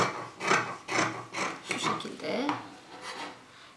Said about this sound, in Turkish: Yine birer santim pay vererek kesiyorum